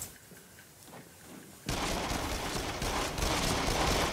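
Rapid gunfire in the VR shooter Until Dawn: Rush of Blood bursts in loud and dense partway through, a sustained barrage of shots following a quieter stretch.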